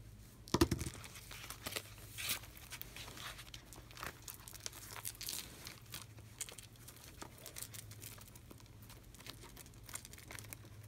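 Scissors trim excess material from a book insert, with a sharp crinkle near the start followed by soft, scattered snips and rustles at close range, fairly quiet throughout.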